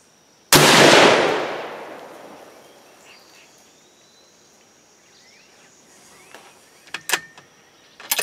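A single rifle shot fired with a 41.4-grain Ramshot TAC powder charge, a sharp, loud crack with a long decaying ring, followed by several seconds of quiet outdoor ambience and a few faint clicks and knocks near the end.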